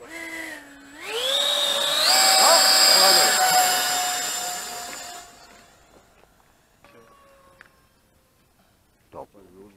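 An RC model airplane engine runs up under throttle, its whine climbing sharply in pitch and holding loud and high for a few seconds before easing back down and fading under faint background sounds.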